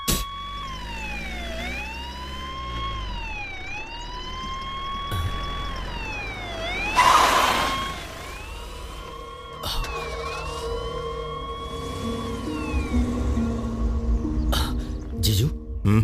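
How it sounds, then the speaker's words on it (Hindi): Police car siren in a Hindi TV scene, wailing up and down steadily at moderate level as the vehicle arrives, under ongoing dialogue and background music. "वो देखो पुलिस की गाड़ी आकर रुकी है।"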